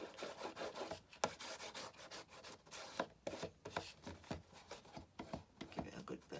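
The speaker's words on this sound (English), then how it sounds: "Give it a good burnish." A paper card for a small gift box is burnished with short, uneven rubbing strokes, quiet scraping bursts separated by brief pauses.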